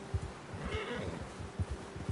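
A horse whinnies in a western video game, a soft, fairly faint neigh in the middle of a short stretch with low thudding hoof-like knocks underneath.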